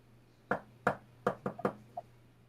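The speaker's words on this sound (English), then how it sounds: "Just knocks in code." Knocking on a door in a coded pattern: six sharp raps in an uneven rhythm, two spaced then a quicker cluster, fairly close against a quiet room with a faint steady hum.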